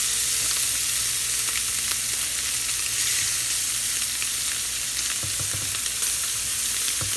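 Scallops and shrimp sear in a hot pan, giving a steady, loud, dense sizzle with occasional crackles and pops, and no voices.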